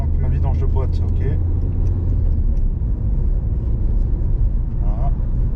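A Renault Megane 1.5 dCi diesel hatchback drives along after gear shifts, its engine rumbling steadily from inside the cabin while someone speaks over it.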